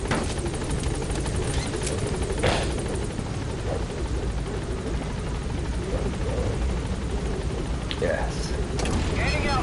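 The Pequod helicopter in Metal Gear Solid 5 holds a steady, loud rotor roar for the whole stretch, with a few faint thuds and clicks layered over the constant thrum.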